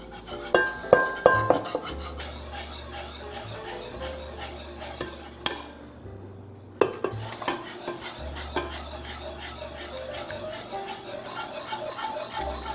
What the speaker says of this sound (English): And I will whisk very quick.